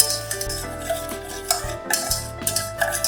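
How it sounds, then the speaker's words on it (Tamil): Plain sugar is stirred slowly in a pan over a low flame to make caramel for custard, soft repeated scraping and light clinks of a utensil against the pan under faint background music. "வெறும் சர்க்கரையை நம்ம இந்த மாதிரி மெதுவாக ஸ்லோ ஃப்ளேமில் இப்படியே கிண்டிகிட்டே இருக்கணும்."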